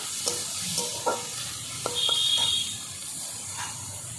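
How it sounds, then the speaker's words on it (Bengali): Chopped onions sautéing in a pan, a soft background sizzle broken by a few scraping stirs with a spoon, close and fairly quiet, without speech. "এরপরে দিয়ে দেবো পেঁয়াজ কুচি দুটো পেঁয়াজ নিয়ে নিয়েছি কুচি করে করে আমি একটু কষিয়ে নেব"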